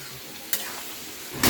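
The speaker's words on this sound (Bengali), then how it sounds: "দেওয়ার পরে আমি একটু এইভাবে নাড়িয়ে চাড়িয়ে নিচ্ছি।" Bottle gourd greens with ground mustard, poppy seed and chilli paste sizzle softly in a pan while a spatula stirs, with two brief louder scrapes punctuating the gentle frying hiss.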